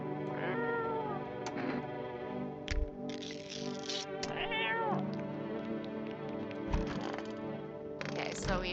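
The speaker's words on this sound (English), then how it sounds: "Feed the cat?" Cat meowing inside the video game No, I'm Not a Human, several clear meows and a rising yowl over steady game music and background hum, with a voice talking at times.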